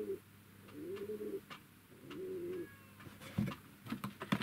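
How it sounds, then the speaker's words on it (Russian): Pigeons coo nearby in a few soft, rounded phrases, followed by a brief flutter and some bumps at the end, with no voices. "О, как у меня голуби воркуют"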